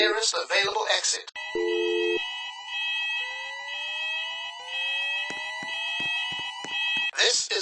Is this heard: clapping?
no